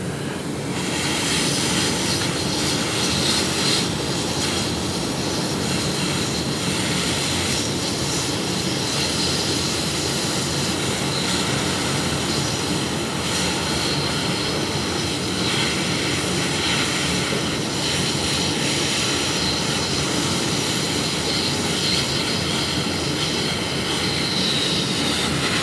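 A plastic welding tool runs at an autobody shop during repair of a cracked plastic part, making a loud continuous roaring hiss with a dense broadband rush that holds steady throughout, close by and with no talk.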